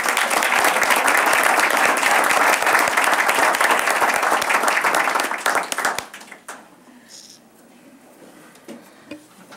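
At a school board meeting, a crowd breaks into loud, dense applause for honored students, which continues for several seconds, then stops abruptly, leaving a quiet room with scattered small noises.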